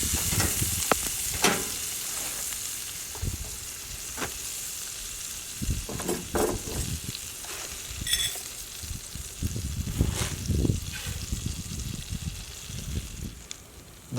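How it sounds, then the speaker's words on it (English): Steady crackling sizzle of garlic frying in hot butter, close and continuous, with occasional clinks and stirring sounds over it. "Let that sizzle away there."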